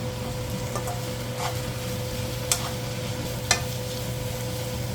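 Korean fish cake is stir-fried in a pan with soy sauce over fairly high heat, giving a soft steady sizzle under a low hum, with a couple of sharp clicks from utensils against the pan.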